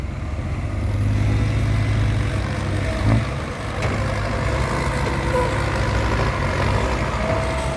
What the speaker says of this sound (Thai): เดี๋ยวให้รถไถดันช่วยมาก่อน